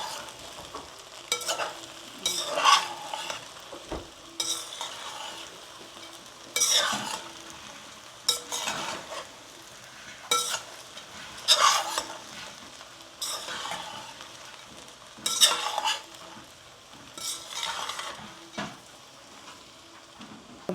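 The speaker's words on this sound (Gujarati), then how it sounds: "તો આપણે ખીચડીને મિક્સ કરી દઈએ." Sabudana khichdi stirred in a pan with repeated scraping strokes and a light sizzle underneath, coming in bursts every couple of seconds, close and fairly loud, with no talking.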